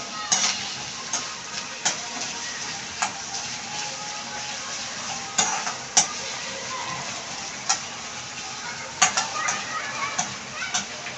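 Softened onion with ginger-garlic paste sizzles steadily in a pan for paneer bhurji, a dense crackling hiss broken by sharp spoon taps and clicks at irregular intervals.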